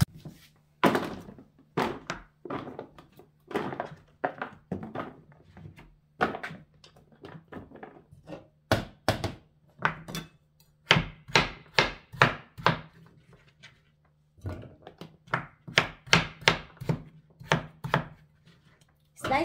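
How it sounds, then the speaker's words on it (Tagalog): Butternut squash is sliced with a knife on a cutting board to fit a casserole pot: a steady series of crisp chopping thunks, some single and some in quick runs, close and clear with short pauses between. "Slice lang natin yung kasya sa ating kaserola."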